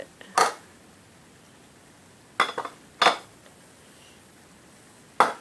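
Plate and utensils knocking as salmon is dumped from a plate into rice, a few separate sharp clinks and clatters spread out with quiet gaps between them, close and fairly soft.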